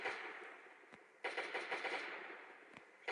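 Bursts of M16 rifle fire in the survival video game Last Day on Earth, a rapid rattling stream of shots that breaks off briefly and then resumes, loud and close, with no talking.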